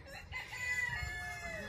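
Chickens cluck while a rooster crows through a long, drawn-out call, fairly soft and steady, as the birds wait to be fed.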